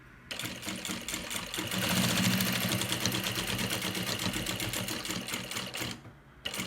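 Sewing machine stitching the lining of a baby bag, a fast, even mechanical whir of needle strokes running continuously and close, stopping briefly at the end.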